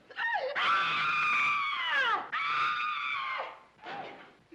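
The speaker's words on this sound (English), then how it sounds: "Did I hear somebody scream?" A person screams in a long, loud, wavering cry from a 1939 comedy film, then breaks into a second sustained shriek followed by a shorter wail, close and alone with no talk over it.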